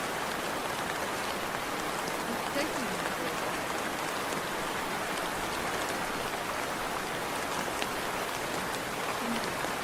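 Steady rain falling on surfaces, a dense continuous patter of drops filling the whole stretch at an even, moderate level.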